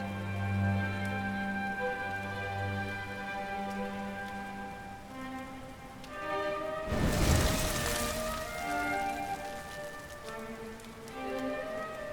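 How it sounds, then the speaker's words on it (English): Steady rain patters close by in the Dragon Quest XI game world, layered over sustained musical tones, with a loud rushing burst of downpour or thunder swelling midway before easing back. "Looks like the rain's dying down."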